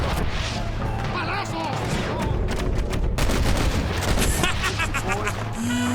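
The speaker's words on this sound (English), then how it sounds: "Oh, it's you that's shooting me." Dense gunfire in the Western video game Red Dead Redemption, a loud continuous barrage of shots and crashes mixed with game sounds, with a voice speaking over it.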